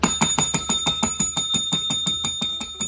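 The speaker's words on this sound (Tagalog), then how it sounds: "Bell." A bell, heard while someone unboxes Pokemon Victini illustration cards, rings in a fast, steady run of bright dings, about six strikes per second, close and fairly loud for roughly three seconds with no talk over it.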